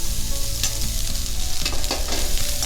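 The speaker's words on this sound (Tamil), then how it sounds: "இப்போ நம்ம எடுத்து வச்சிருந்த இந்த மில்லட்டை இதில் போட்டுக்கலாம்." Little millet (saamai) is stirred and fried in a pan with asafoetida, producing a loud, dense sizzle with quick scraping stirs near the middle and end, close up and with no speech.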